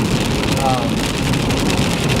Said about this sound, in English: we just got into our first rain of the entire trip